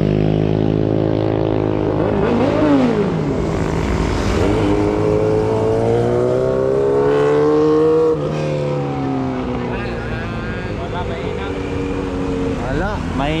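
A Honda Click scooter engine strains up the steep Devil's Corner road, its whining drone rising and falling in pitch as it revs, loud and close throughout, with voices in the background.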